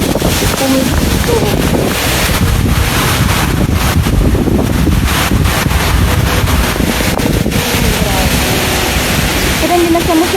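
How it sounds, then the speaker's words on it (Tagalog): Strong, steady typhoon wind roars across a rooftop garden and buffets the microphone throughout, a loud continuous rumble with gusty surges, no talking. "Ang lakas pa rin po ng hangin."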